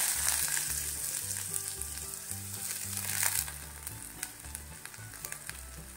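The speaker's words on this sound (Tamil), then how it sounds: "ஆயில் நல்லா கொச்சோடனே நம்ம சின்ன வெங்காயம் ஆட் பண்ணிக்கிறோம்" Continuous bright sizzling of chopped small onions frying in hot oil, crackling steadily throughout with no voices.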